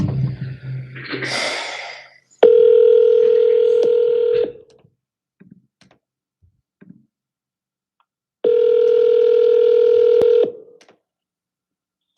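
An outgoing telephone call to a for-sale-by-owner listing rings out with two long, loud electronic ring tones separated by a silent gap, following some brief breathy sounds at the start, close and with no speech.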